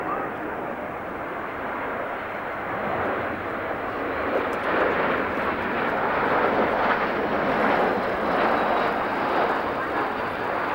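An airliner makes a very fast pass over the Farnborough Air Show in 1992, a steady broad jet roar that swells slightly toward the middle and stays loud and sustained throughout, with no talk.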